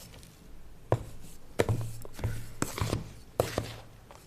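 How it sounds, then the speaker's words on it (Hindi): Caustic soda being stirred into a hot homemade laundry detergent mixture gives irregular clinks and scrapes, a handful of sharp strokes over a low steady hum, close by with no talk. "अब इसको हमने अच्छी तरह मिक्स करना है कास्टिक को"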